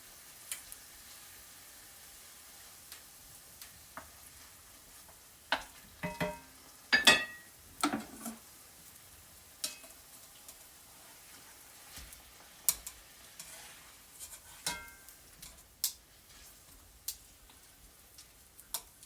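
Already-cooked prawns with chili and garlic are stirred in a pan, giving a quiet sizzle broken by sporadic clicks and scrapes of the utensil against the pan, with bursts clustering in the middle.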